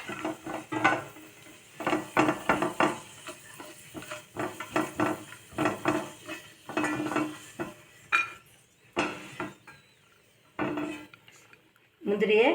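Fried cashews are scooped from a pan of hot ghee while making semiya kichadi: stop-start scraping and clinking of a spoon against metal over a light sizzle, with quiet gaps between strokes.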